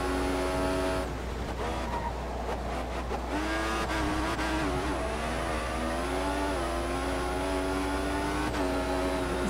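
An F1 race car engine in the F1 2014 video game at the Bahrain circuit screams at high, steady revs, its pitch rising and dipping with shifts, loud and continuous with no talk.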